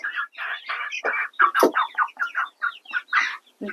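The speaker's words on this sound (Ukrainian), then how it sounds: "Зважимо півника сасо, французький бройлер." A Sasso rooster, a French broiler, being weighed gives a close, steady run of clucks, about a dozen short bursts in an uneven rhythm with no pause between them.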